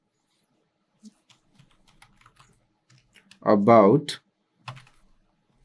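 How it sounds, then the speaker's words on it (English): Computer keyboard keys tapped while a prompt is entered, soft scattered clicks with a brief burst of speech partway through. "So if I'm typing in XYZ things"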